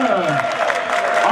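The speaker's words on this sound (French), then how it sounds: "applaudissez pour les finalistes" Crowd clapping for the finalists at a tournament in Gadiaga, a dense burst of applause with an announcer's voice talking over it.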